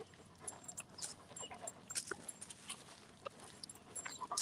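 A dog on a walk whimpers in thin high whines and pants softly, the small cries scattered irregularly over a light background rustle, fairly close and with no talking.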